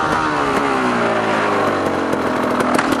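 A motorcycle engine revving and braking hard for a stoppie, loud and close, with rising and falling pitch over a few seconds and sharp clatters near the end.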